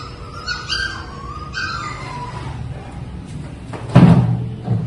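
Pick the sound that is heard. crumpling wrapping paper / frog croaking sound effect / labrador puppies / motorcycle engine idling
labrador puppies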